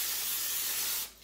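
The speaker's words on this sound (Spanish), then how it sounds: "Le voy a poner un poquito de spray" Cooking spray misted onto baking paper for healthy flourless brownies, a single close, steady hiss lasting about a second before cutting off.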